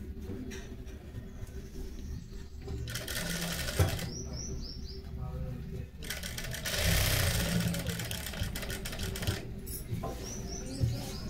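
Sewing machine stitching a kurti, with several separate runs of fast rhythmic whirring and pauses between them, close-up against a quiet room with faint chirps.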